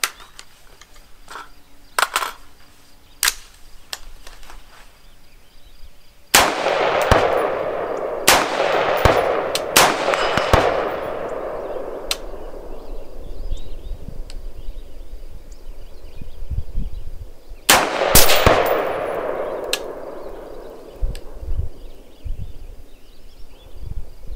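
Shots ring out from a Bear Creek Arsenal rifle at an outdoor range, loud sharp cracks, some single and some in rapid clusters, each followed by a long rolling echo.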